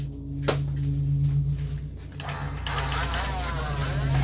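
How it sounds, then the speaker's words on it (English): A small vacuum cleaner runs at a yard sale, a steady droning motor hum close by that swells into a rougher, louder whoosh partway through. "Little vacuum, vacuum it up."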